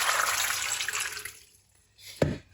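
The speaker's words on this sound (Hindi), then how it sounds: "अब पहले इनकी धुलाई करेंगे क्योंकि छिलका हमने इस्तेमाल करना है" Malta oranges are rinsed in a sink: running water splashes steadily, fades to near silence, then one sharp splash and slosh follow close by.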